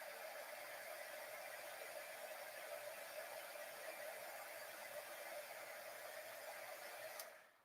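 Heat tool blowing steadily to melt black embossing powder, a continuous whirring hum that runs alone until it cuts off abruptly near the end.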